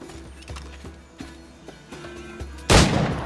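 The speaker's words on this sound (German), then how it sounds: "Der zweite Schuss war ein Headshot." Gunfire in the video game Assassin's Creed IV Black Flag: a series of muffled, regularly spaced thuds over a low game rumble, then one loud, bright blast near the end.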